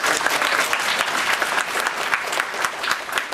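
Audience at a D.A.R.E. graduation ceremony breaks into steady, dense clapping that fills the room without a pause.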